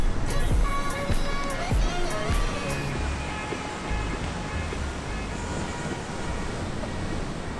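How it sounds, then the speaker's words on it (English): Surf breaking on a beach in South Korea, a steady roaring wash of waves filling the scene with some faint chatter and bright clatter early on. "Look at the waves."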